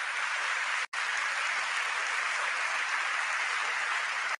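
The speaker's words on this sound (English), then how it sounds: "please give our panel the very warmest applause" Audience at a conference session applauding the panel, a dense, even wash of clapping from a large room that continues steadily with only a momentary break.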